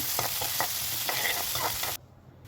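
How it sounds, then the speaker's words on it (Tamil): A cup of onions is sautéed in a pan until brownish. A loud, close sizzle runs with repeated stirring scrapes, then cuts off abruptly near the end, leaving quiet room tone. "ஒரு கப் ஆஃப் ஆனியன் ஆட் பண்ணி அது ப்ரௌனிஷ் ஆகுற வரைக்கும் நல்லா வதக்கி விட்டுக்கோங்க"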